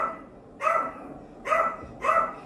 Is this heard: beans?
no